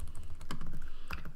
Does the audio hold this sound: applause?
no